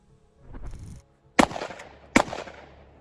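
Kel-Tec KSG pump shotgun firing: two sharp, loud blasts about a second apart, each trailing off in a short echo, preceded by a brief mechanical rustle.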